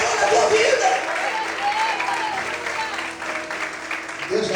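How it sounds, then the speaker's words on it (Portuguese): A church congregation applauds, a dense steady wash of clapping that fills the room, with voices and cheering mixed through it from start to finish. "Por um minuto, aplaude o Senhor"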